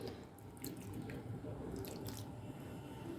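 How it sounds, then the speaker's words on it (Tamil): Water is poured a little at a time into wheat flour dough mixed with vegetables for adai dosai, giving faint dripping and wet splashing over a low, steady background hum. "இப்போ கொஞ்சமாக தண்ணி ஊற்றி பிசைஞ்சிக்கலாங்க."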